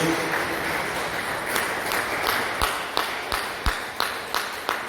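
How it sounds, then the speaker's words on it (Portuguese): Church congregation clapping for Jesus, a dense wash of applause that turns into rhythmic, synchronized claps on a steady beat, fairly close and loud, with no speech over it. "dê uma salva de palmas bem alegre para Jesus"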